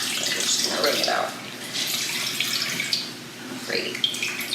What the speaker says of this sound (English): So I'm just going to wring it out.